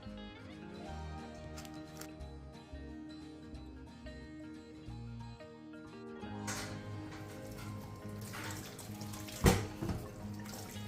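Tap water runs into a kitchen sink while vegetables are rinsed: Brussels sprouts, broccoli, bell pepper, carrots and sweet potato. A steady splash swells after the midpoint, with a sharp knock near the end over a tonal background.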